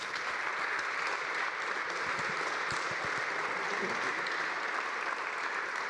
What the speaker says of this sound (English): let's give a round of applause to our lovely panelists